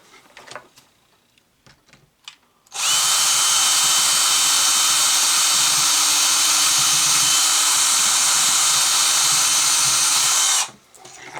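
A power drill whirs at a steady high pitch for about eight seconds, spinning a bit through leather, with quiet handling noise before it starts and after it stops.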